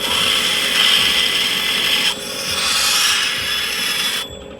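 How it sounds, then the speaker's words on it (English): A diamond grinding wheel at a lapidary station grinds the corner of a hunk of jade with a close, loud, steady whining scrape. The tone shifts partway through, and the grinding stops just before the end. "look how fast it's going to grind that corner"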